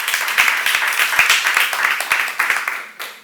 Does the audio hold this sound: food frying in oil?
no